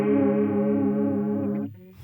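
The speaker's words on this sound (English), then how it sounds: "with the chorus as well, so you can crank it all the way up, so you can get that sort of wiggly sound" Electric guitar played through a Boss BE-5 multi-effects pedal with the chorus turned all the way up: a loud, wobbling held chord that rings for over a second before cutting off abruptly.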